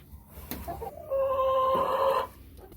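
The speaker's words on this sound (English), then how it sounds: "Oh, look at this pretty chicken." A hen with feathered feet in a homestead coop during morning chores gives a drawn-out, tonal clucking call close by, with a few soft thumps before it and no talk.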